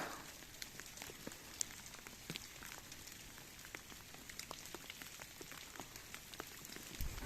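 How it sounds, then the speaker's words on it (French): Hail pelting down in a dense, steady clatter, with sharp irregular ticks of stones striking hard surfaces nearby, heard while sheltering under trees on a mountain hike in the Vosges. "c'est de la grêle"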